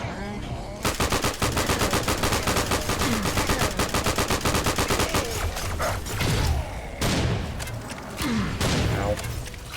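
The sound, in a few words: gunfire in the video game Serious Sam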